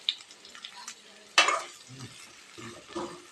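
Chopped large onions sauté in a pan over medium heat with faint sizzling and a sharp scrape of a stirring spoon, quiet and close.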